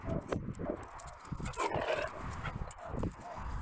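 Beagles play outside close by, with scuffling paws, soft yips and brief whimpers against faint outdoor background.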